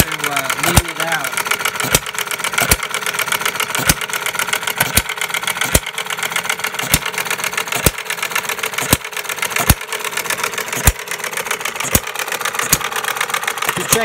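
A 1/3 scale gas-powered Breisch Associated Hired Man hit-and-miss engine running steadily, with sharp regular firing pops about once a second over a continuous mechanical clatter, close by, with talking throughout.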